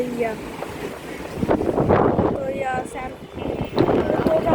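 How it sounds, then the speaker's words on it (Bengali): Strong Kalbaishakhi storm wind buffets outdoors in loud, surging gusts that batter the microphone, while a person talks over the roar. "বাতাস হচ্ছে গাইজ আজকে"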